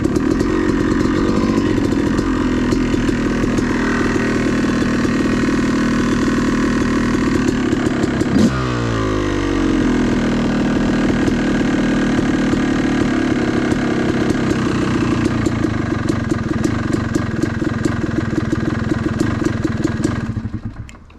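A Yamaha YZ dirt bike engine idling, a loud, steady, close-up putter with a brief pitch dip in the middle before it cuts off at the end.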